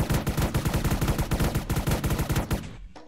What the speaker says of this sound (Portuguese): você já soltou um monte de tiro aí